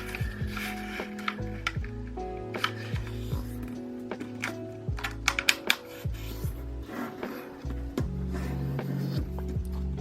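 Blue origami paper being folded diagonally in half both ways, with repeated crisp creasing, rubbing and crackling strokes close up, steady and busy throughout with no voice.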